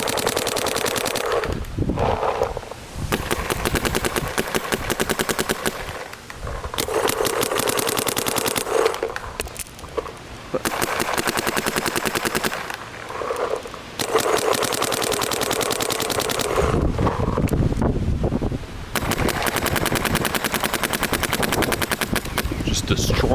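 Planet Eclipse LV2 paintball marker firing outdoors in loud rapid bursts separated by short pauses, harsh and close, with a voice now and then between the volleys.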